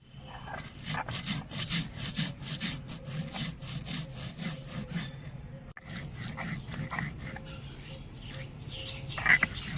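Cumin seeds with water ground by hand on a grinding stone in a village kitchen, a rhythmic back-and-forth rubbing scrape repeating in quick strokes, close and fairly quiet, with a short break midway.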